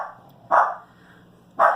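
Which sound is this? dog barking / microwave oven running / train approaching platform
dog barking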